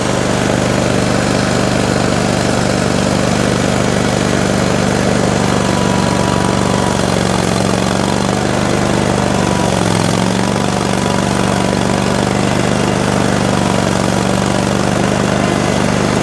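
Small engine running at a steady low idle, loud and close, with a constant droning hum and no other sounds over it.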